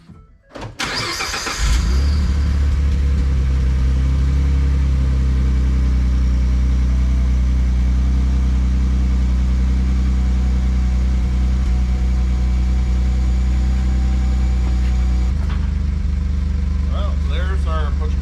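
A Ford F150 EcoBoost truck starting and then idling steadily after an exhaust repair, a loud, close, even low rumble that holds unbroken for the rest of the clip.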